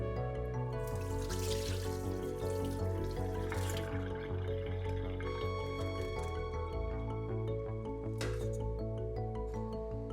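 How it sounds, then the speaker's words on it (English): Rice being rinsed in water in a kitchen, continuous splashing and dripping with swirling liquid sounds and a few brighter sloshes, steady and close, no talking. "run the rice through the water and rinse it well, and do this 3 times"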